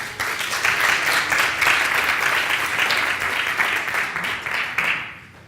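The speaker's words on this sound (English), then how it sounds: "Round of applause for Martyn" A design conference audience applauds a speaker from Virgin Atlantic coming on stage, with loud, dense, sustained clapping from a large crowd that fades out near the end.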